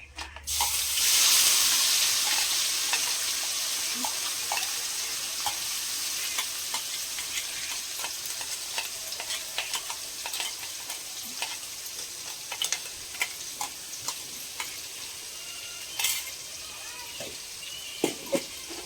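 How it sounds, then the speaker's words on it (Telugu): Steady frying sizzle from a pan as a freshly ground paste for okra curry hits the oil, loudest at first, then a constant crackle with occasional scraping stirs and clicks. "ఇది బాగా వేగనివ్వాలి, పచ్చి వాసన పోయేంత వరకు బాగా వేగనివ్వాలి"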